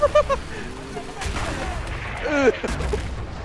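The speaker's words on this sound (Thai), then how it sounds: "เพื่อนกูโดนระเบิดหาย" Explosion and gunfire in the video game A Way Out, a sharp blast bursting out amid scattered shots and game noise, with a few short booms over about three and a half seconds and a shouting voice mixed in.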